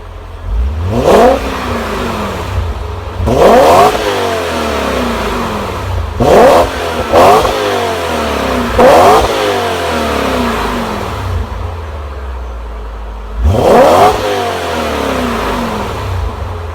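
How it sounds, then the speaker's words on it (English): A 2000 BMW M5 engine and exhaust rev repeatedly in short, deep blips, each roaring up and dropping back to a rumbling idle, loud and close, no voices. "I'm not like a huge loud exhaust noise guy, but this still has the boiler mufflers on it"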